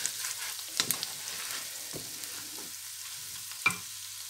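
Spices frying in a pan for an okra and onion dish give a steady low sizzle, broken by a few sharp scraping stirs from a spoon, with no one speaking.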